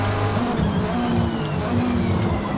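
Racing car in a video game, a Mitsubishi Lancer Evolution X GSR 2008 in a four-cylinder championship race, a dense, loud engine roar with tire noise under hard braking, continuous and close.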